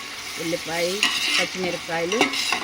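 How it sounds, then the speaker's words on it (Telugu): Onion, green chillies, fenugreek, cumin, mustard seeds and curry leaves fry for a fish curry, a close sizzle with repeated rhythmic spatula scrapes and clinks against the pan. "బాగా ఎర్రగా వేపుకోవాలి"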